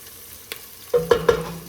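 Fresh homemade pasta sizzling softly in a pan, with a few sharp clinks of a utensil stirring against the pan, close by.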